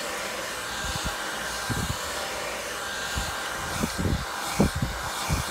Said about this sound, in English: The key to blow drying your hair is blow drying it until you don't feel no more moisture